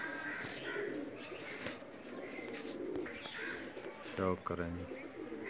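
A pet pair of flying pigeons coos softly in a Pakistani loft, with low, bubbling calls and a brief flutter near the end while someone talks over them.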